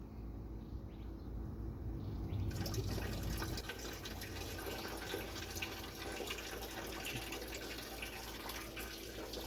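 Water runs steadily from a hose into a Chevrolet C1500 pickup radiator and spills over into a bucket below, a continuous close splashing pour with a brief louder gush near the start.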